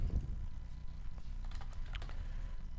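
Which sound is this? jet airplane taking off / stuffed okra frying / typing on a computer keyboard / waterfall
typing on a computer keyboard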